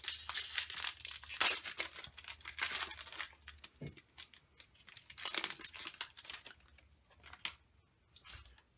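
A Yu-Gi-Oh booster pack from a 2016 Mega Tin is torn open, close crinkling and ripping foil in several bursts with quieter handling between them.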